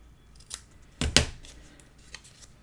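Scissors snip through excess ribbon tail on a paper craft mini album, giving a small click and then two quick crisp cuts close by in a quiet room, with no talking.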